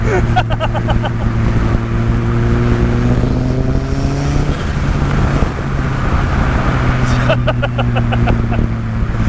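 An RX-5 Turbo car engine drones loud and close on a test drive, holding a steady note with rising revs and sharp crackles at the start and end, and voices talk faintly underneath.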